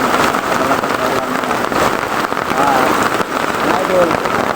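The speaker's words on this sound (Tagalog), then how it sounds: "Malakas na ulan" Heavy rain pours down in a loud, dense, continuous roar with no break, close by and steady throughout.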